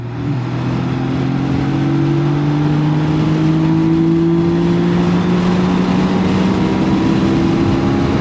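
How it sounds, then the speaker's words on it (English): A BMW K1600 GTL six-cylinder touring motorcycle pulls from 80 to 140 km/h in sixth gear without downshifting, giving a smooth, steady engine drone that rises slowly in pitch throughout. "Third test, 80 to 140 kilometers per hour in 6th gear. No downshifts."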